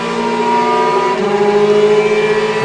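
Rear-engine Porsche and mid-engine Ferrari GT race cars pass together at Road Atlanta, a loud sustained engine roar with shifting tones as they drive through the corners, steady and close.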